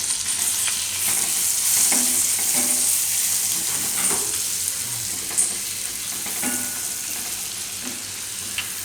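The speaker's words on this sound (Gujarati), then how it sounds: "માખણ આપણે આ રીતે ગરમ થઈ ગયું, તો એમાં નાખશું આપણે લસણ" Grated garlic frying in hot butter, giving a continuous fine sizzle broken by occasional stirring scrapes, close up with no voices.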